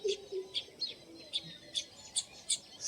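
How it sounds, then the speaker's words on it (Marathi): Sparrows chirp in quick, repeated bright tweets at a steady rhythm while feeding on scattered rice and sorghum, fairly close, with a soft pigeon cooing note early on. "खबुत्र चिमण्या अजून काही काही पक्षी खायला येतात"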